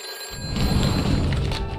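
A telephone rings in the What Remains of Edith Finch video game, a loud, sustained ringing that starts abruptly after a short silence and carries on steadily alone.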